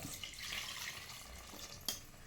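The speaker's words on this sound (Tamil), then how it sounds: "இப்போ இந்த ஜார்லேயே நான் ஒரு சொம்ப அளவுக்கு தண்ணி ஊற்றி சேர்த்துக்கிறதுல" Water runs and splashes briefly into a jar, a soft close trickle with a small clink near the end, while making brinjal oil gravy.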